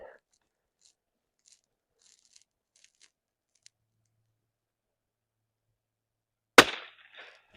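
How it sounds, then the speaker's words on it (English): A single sharp .22 LR rifle shot from a Remington 510 strikes a Christmas decoration outdoors, a loud crack followed by a brief scattering rattle, after several seconds of near silence with faint small clicks. "I want to shoot him again"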